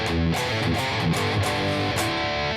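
A heavily distorted electric guitar plays part 2 of a riff from a song as a dense, loud, chugging line with a few sharp accented stabs, with no talking.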